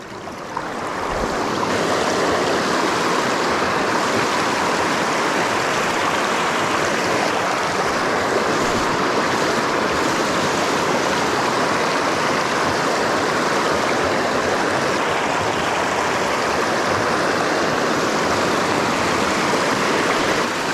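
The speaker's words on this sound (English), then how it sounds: "I think we got to get closer to this white water over here." White water rushes loudly in a remote Northwest mountain stream in the rain, a dense unbroken roar close by that stays steady throughout with no voices.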